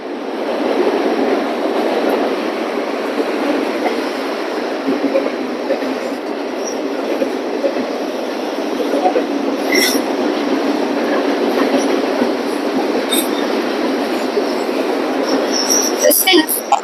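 Norfolk Southern freight train passing at night with a DPU locomotive, a continuous rumbling roll of wheels on rail with clicks and faint squeals, loud and steady throughout.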